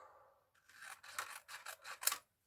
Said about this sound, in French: nous allons en découper un morceau